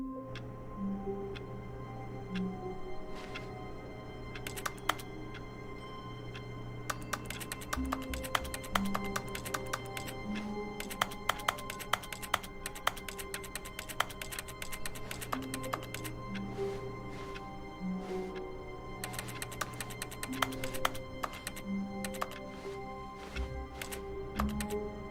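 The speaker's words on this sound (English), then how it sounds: "He sat at his desk in room 427 and he pushed buttons on a keyboard." Keys on a computer keyboard in the office of the video game The Stanley Parable tap faintly and irregularly over a steady musical backdrop, with sparse clicks clustering in the middle.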